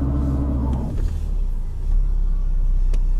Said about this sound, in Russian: Колеса буксуют.